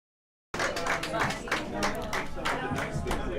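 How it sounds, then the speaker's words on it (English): Spectators at a junior curling bonspiel clapping in light, scattered applause that starts abruptly and carries on steadily, with voices talking over it. "The clapping going on is because the first game just came off with Cape Cod 1 and Schenectady."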